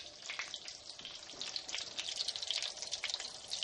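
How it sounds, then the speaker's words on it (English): Thin pork medallions fry in a pan with a steady, bright sizzle and small crackling pops throughout, close and continuous with no talking. "because these pork medallions are so thin, it's only going to take a few minutes to fry them"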